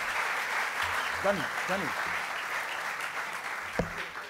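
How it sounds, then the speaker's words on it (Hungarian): An indoor audience at an evening lecture claps steadily in sustained applause throughout, with a voice calling out twice over it. "Tapsoljátok meg!"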